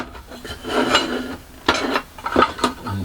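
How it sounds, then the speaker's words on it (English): Metal clamps knocking and scraping against a wooden workbench in a small shed while a glued-up modelling tray is set up, a few close clunks and rubs in irregular bursts with no voices. "I can just put the clamps into the bench"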